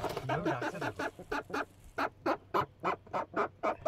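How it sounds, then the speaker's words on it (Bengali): A gagra tengra catfish just pulled from a river in the Sundarbans croaks in a rapid series of short grunting pulses, about a dozen evenly spaced calls, close and clear. "গাগরা এটা গাগরা টেংরা। ডাকছে।"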